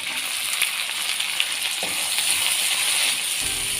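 Crushed shallots frying in oil for a Kerala-style fish head curry, a steady close hiss and crackle with a few small clinks of a utensil against the pan, no speech.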